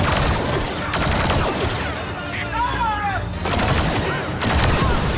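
Dense, continuous blaster fire and explosions fill a Star Wars Battlefront 2 video game battle, with overlapping volleys and whistling shots throughout and voices speaking beneath the din.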